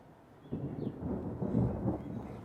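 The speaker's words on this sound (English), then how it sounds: "I think we're gonna get a thunderstorm here." Thunder from an approaching thunderstorm, a low rolling rumble that swells after a quiet start and keeps grumbling, distant but full, heard alone.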